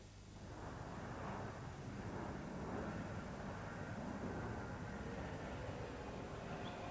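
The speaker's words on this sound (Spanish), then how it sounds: "cuando oye el despegue de sus aviones" A steady, loud roar of military jet engines rumbles continuously as planes take off from Torrejón air base nearby, with broad noise filling the whole stretch.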